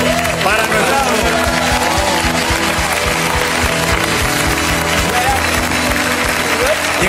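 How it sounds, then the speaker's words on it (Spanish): Sustained audience applause at a live Spanish TV segment featuring tableaux vivants with Juan Echanove, loud and continuous throughout with busy crowd noise and some voices mixed in. "un aplauso para nuestro amigo"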